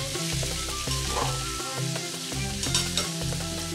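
Finely chopped onions and tomatoes sizzle steadily in a hot pan while a spoon scrapes and stirs them in repeated strokes, close and fairly quiet.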